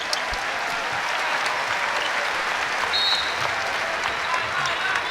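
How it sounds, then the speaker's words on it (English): Basketball arena crowd at Matthew Knight Arena in Eugene during an Oregon versus UConn game, a steady, fairly loud wash of applause lasting throughout. "India Rogers getting a hand from this crowd."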